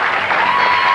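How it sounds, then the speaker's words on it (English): Game show studio audience applauding, a steady dense wash of clapping that fills the short moment without pause, loud and close, with no talk over it. "a round of applause for these nice folks for playing our game"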